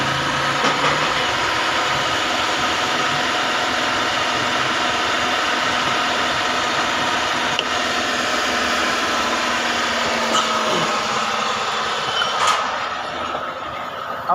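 A Suzuki car engine runs steadily after a camshaft sensor repair, a close, continuous hum and rumble that eases slightly near the end, with a few faint clicks over it.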